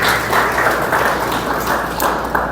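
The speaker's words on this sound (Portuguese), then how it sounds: "uma salva de palmas para a irmã aqui, ó" A church congregation claps for a sister during a sermon: a dense, loud burst of steady applause filling the whole moment with no talk over it.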